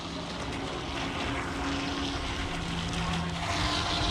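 A Carrera Profi RC Speedray hydroplane boat motor runs at full throttle, a steady, loud, high-pitched electric whine with a buzzing drone that holds throughout.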